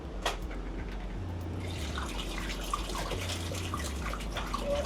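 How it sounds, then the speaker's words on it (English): Water poured out of a big 5-gallon drum splashes and gurgles continuously into a container, a steady rushing pour at close range with no talk. "just take this big 5-gallon drum of water and just pour it up in there"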